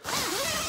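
A tent zipper is pulled shut in one quick continuous rasp at close range, with no talking.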